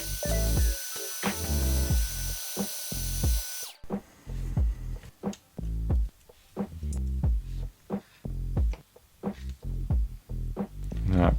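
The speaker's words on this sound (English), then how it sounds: "Gonna hit this with a hair dryer," A hair dryer blows on a freshly airbrushed, stencilled folding-winged topwater fishing lure: a loud, steady rushing whoosh with a faint whine. It runs for nearly four seconds, then cuts off abruptly and other, choppier sounds follow.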